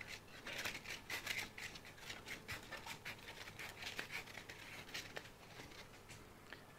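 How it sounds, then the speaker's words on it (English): Sandpaper is peeled off a drum sander and rolled up, making a run of close, dry crackling and tearing rasps in irregular bursts. "So I'm going to take the paper off, I'm going to roll it up as it goes,"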